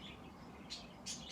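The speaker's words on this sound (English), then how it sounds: "My birds are going nuts." Pet birds chirping indoors, a few short high chirps, faint and somewhat distant over a quiet room hum.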